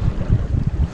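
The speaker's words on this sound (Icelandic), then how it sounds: "Það er smá vindur að koma núna hérna." Wind gusts buffet the microphone aboard a racing sailboat in an Icelandic sailing championship, a loud low rumble with water and hull noise beneath and no speech.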